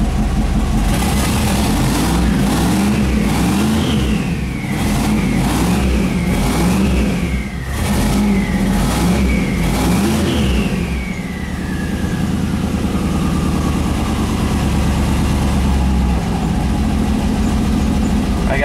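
A 5.3-litre turbocharged engine swapped into a Mustang runs and revs repeatedly, with rising and falling pitch sweeps and turbo whine, then settles into a steady low idle. The sound is loud and close throughout, with no talking.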